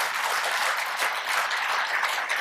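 An audience at a Hindi devotional discourse on navadha bhakti claps together in a steady, full round of applause with no one speaking over it.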